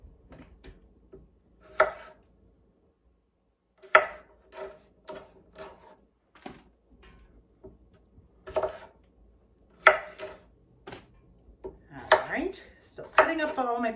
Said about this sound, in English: Still cutting up all my potatoes.